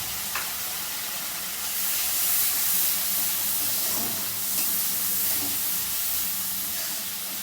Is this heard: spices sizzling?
yes